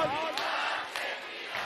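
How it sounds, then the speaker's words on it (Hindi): A crowd at a political rally at Jantar Mantar chants an anti-corruption slogan in unison, a loud surging roar of many voices over a brief stretch. "एक बार दोनों हाथ उठ के ताली बजाते हुए नारा लगना चाहिए"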